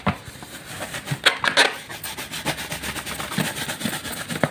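An object being rubbed by hand for a classroom static electricity demonstration, giving a series of rough, uneven scraping strokes close up, some louder bursts mixed with softer rasping.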